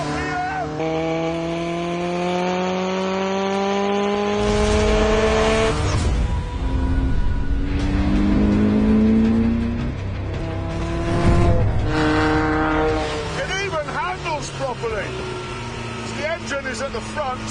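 A small European sports car engine that revs to 8,500 rpm screams loudly at speed, its pitch climbing and dropping through repeated revs and gear changes, with a voice heard over parts of it.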